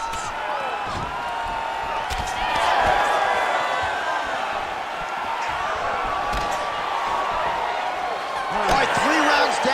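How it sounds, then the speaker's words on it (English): Arena crowd noise from the UFC 5 mixed martial arts video game: steady roar with surges of cheering and whoops, plus a few sharp impact thuds, continuing underneath a commentator's voice. "The crowd's going crazy because they appreciate high-level mixed martial arts"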